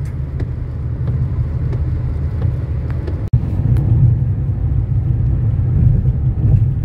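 Inside a car speeding at around 180 on a highway back to Manila from Bicol while overtaking, a steady loud low rumble of engine and road continues throughout, broken once by a sharp click midway.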